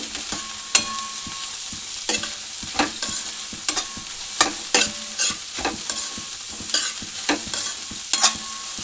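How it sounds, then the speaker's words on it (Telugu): Vegetable fried rice made from leftover rice, stir-fried over a high flame: loud, close sizzling punctuated by frequent sharp spatula clanks and scrapes against the pan in an uneven rhythm, with no voices. "ఇలా కొద్దిసేపు ఫ్రై చేసుకుందాం."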